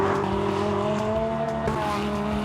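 A rear-wheel-drive, manual-gearbox Lamborghini Gallardo, stripped-out and driven hard: a steady loud engine drone with a rising tonal whine and faint tyre scrub, continuous and close throughout.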